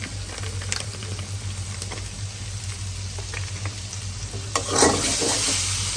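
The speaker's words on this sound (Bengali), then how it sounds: "মশলা কষাইতেছি আদা রসুন হলুদের গুঁড়ো মরিচের গুঁড়ো দিয়ে কষাই কষাইতেছি" Ginger, garlic, turmeric and chili powder sautéing in a little oil, a continuous close sizzle with stirring scrapes and spatula clatter that swells louder near the end.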